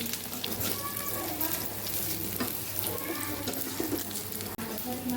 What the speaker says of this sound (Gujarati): આપણે વઘાર સાથે મિક્સ કરી દેવાના છે ઢોકળાને